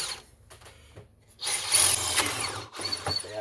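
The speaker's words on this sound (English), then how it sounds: "So yeah, let's drill those out." Power drill boring out parts on a vintage McCulloch 10-10 chainsaw during a restoration, loud sustained whirring bursts with brief pauses, close up, no talking.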